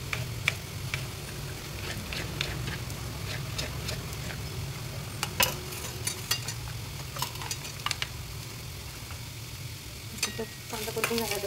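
Chopped tomato frying in oil in a home kitchen pan for mutton rassa, a steady low sizzle running throughout with scattered clicks and scrapes of stirring, no talk.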